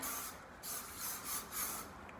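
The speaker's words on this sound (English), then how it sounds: "I'm gonna spray it" A spray bottle misting hair before brushing gives several short, breathy hisses in quick succession, close and fairly soft.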